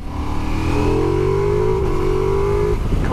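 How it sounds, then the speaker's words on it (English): A 2022 Ducati Multistrada V4S motorcycle's V4 engine revving up with a rising growl, held high, then dropping back near the end; close and loud. "I love the sound of that motor."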